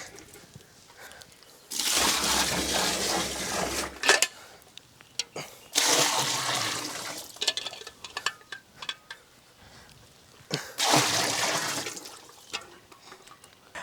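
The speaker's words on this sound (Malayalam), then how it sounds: "നല്ല തണുപ്പിച്ച പാലെടുത്ത് നമ്മൾ ഇതിലേക്ക് ഒഴിച്ചു കൊടുക്കുകയാണേ" Chilled milk poured into a large batch of rose milkshake sherbet mix, three separate loud gushing pours of liquid with quieter handling sounds between them, close and without talk.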